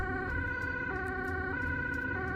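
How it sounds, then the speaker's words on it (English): An ambulance siren sounds steadily as the vehicle pulls out of a hospital through the gate, its stacked tones holding and stepping in pitch in a continuous, moderately loud wail. "Oh, and the sirens come on."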